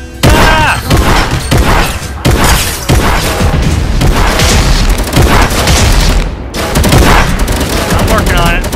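Shotgun blasts in the Doom video game ring out loud and close, several heavy booms in quick succession with a dense, continuous roar of combat between them.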